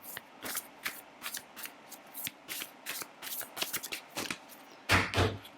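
A tarot deck being handled and a card drawn, a series of soft papery flicks and riffles, close and quiet, ending in a louder burst of card rustling.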